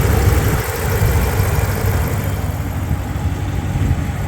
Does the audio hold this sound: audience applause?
no